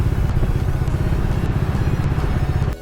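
A motorcycle engine, a Thunderbolt bike, runs at very low road speed, close and steady, with a dense low throb and light mechanical clatter that does not break over the whole stretch.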